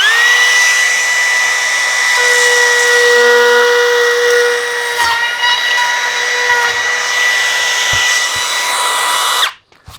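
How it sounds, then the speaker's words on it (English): A router fitted with a brand new Bosch bit, set less than an eighth of an inch out, trims edge tape with a loud, steady high-pitched whine that runs continuously for about nine seconds before cutting off abruptly. "We have our router bit just maybe about less than 1/8 of an inch out."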